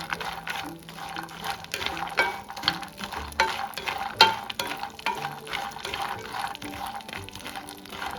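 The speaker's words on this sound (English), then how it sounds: "We're going to coat our pecans with butter." Pecans are stirred in melted butter in a pan, giving repeated scraping, rustling strokes with a light sizzle underneath, moderately close and with no talk.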